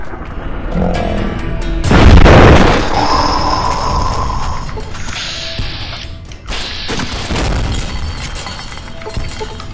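A loud video game explosion booms with a heavy burst of shattering debris, then glassy breaking, mechanical clatter and ringing tones continue close and dense for several seconds afterward.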